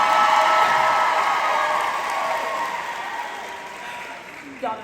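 Clapping from a large audience at a family reunion event sounds loud and dense at first, then slowly thins and fades, with a faint clatter near the end.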